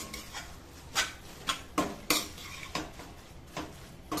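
A spoon scrapes and clinks against a metal pot while chopped coriander is mixed into paneer biryani ingredients, giving several sharp, close strokes in an uneven rhythm with quiet gaps between them.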